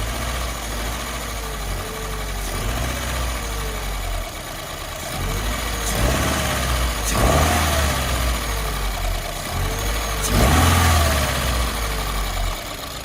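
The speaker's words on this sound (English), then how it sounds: "now we're getting our voltage readings of our MAP sensor while David opens and closes the throttle" A car engine idling steadily, then revving in several distinct swells as the throttle is opened and closed repeatedly during MAP sensor testing. Each rev rises and falls back to idle, heard close and fairly quiet.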